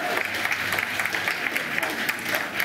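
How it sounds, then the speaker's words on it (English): Staff inside Number 10 applaud as Rishi Sunak enters as Prime Minister, a steady round of clapping heard at a slight distance with some sharper individual claps, while a voice talks over it. "You can hear, though, the applause as he enters number 10 as Prime Minister"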